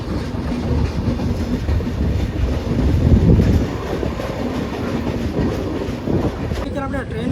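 A passenger train runs at speed, heard from inside a carriage as a loud, steady rumble with rattling clatter throughout.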